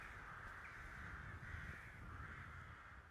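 Crows cawing over a city in a modded Skyrim game world, a steady caw-filled birdsong layer carrying through the whole stretch with no other sounds standing out.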